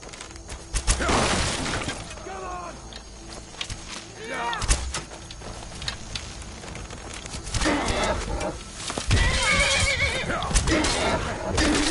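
A horse whinnies several times in Skyrim, the neighs loud and close, with clattering hooves and crashing noises between them.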